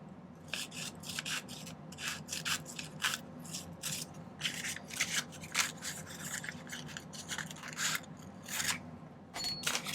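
Strip of silversmithing material being cut by hand, a rapid series of short rasping snips and scrapes in irregular bursts, close and fairly quiet.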